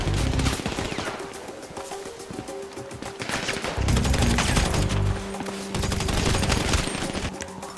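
Heavy gunfire in GTA Online, dense bursts of automatic and rapid shots firing steadily and loudly throughout with no break.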